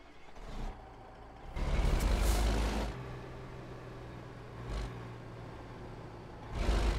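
A modded truck in American Truck Simulator accelerates hard in a snowstorm, giving a low droning engine rumble that swells into loud surges with brief hissing bursts, alone without talk.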